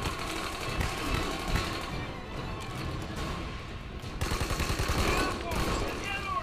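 Rapid bursts of gunfire crackle from the video game Army of Two: The Devil's Cartel, loud and dense, with a heavier flurry of automatic shots in the second half, mixed with speech.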